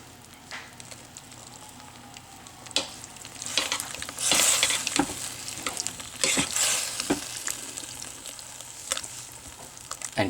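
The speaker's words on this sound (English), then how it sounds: "And stir it up." A spoon stirring a thick beef stew with red wine in a pot, irregular clinks and scrapes against the pot over a low simmering bubble, fairly close and with no talking.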